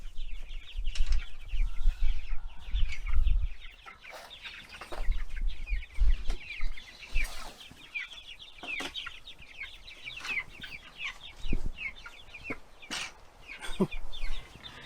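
Ranger chickens on a homestead cluck and chatter in a busy flock, with repeated close calls, some wing flaps and low thumps, no talk over them.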